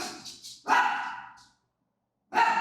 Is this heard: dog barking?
yes